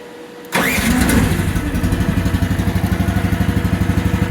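A Chinese mini excavator's engine is started with the key at high idle: a short crank catches abruptly and settles into a loud, steady, rapidly pulsing idle close by, with no talking.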